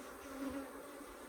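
Africanized hybrid honey bees buzzing around an open hive during an inspection in southern Arizona, a dense, steady hum of many insects close by, swelling slightly mid-clip, with no voices.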